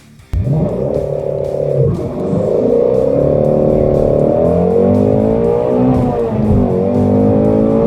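A high-revving flat-plane crank Voodoo V8 engine screams loudly and continuously, pitch rising and falling through shifts, with a sharp start and sustained roar throughout.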